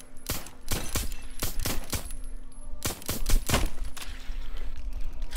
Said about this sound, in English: I hear gunfire somewhere.